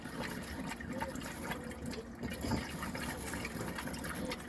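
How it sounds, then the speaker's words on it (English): A motorhome water pump, on a 2018 Auto-Sleeper Warwick XL, forces air out of the boiler, giving a continuous rushing, gurgling flow of water and air that stays fairly loud throughout. "that's just pushing the air out of the boiler. So you run the pump until you get all that air out"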